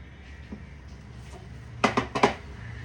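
A lid set onto a cooking pot in a kitchen, a quiet hum followed by a short cluster of three or four clattering metal knocks near the end.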